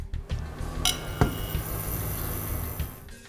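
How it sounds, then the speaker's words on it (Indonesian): A non-stick frying pan set down in a kitchen, giving one sharp metallic clink with a brief ring, followed by a few faint knocks and quiet handling. "Selanjutnya, siapkan teflon."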